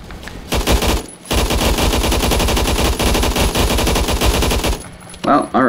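An AUG HBAR in the video game Phantom Forces fires a full magazine in rapid sustained bursts, loud and close, with a short pause early on, then long unbroken automatic fire and a few trailing sounds at the end.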